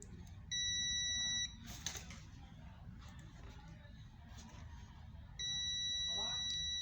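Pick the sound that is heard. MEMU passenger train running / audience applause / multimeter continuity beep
multimeter continuity beep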